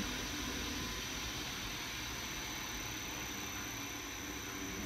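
A Lyson cassette honey extractor spins loaded frames, a steady, even whirring hum that holds at the same level throughout.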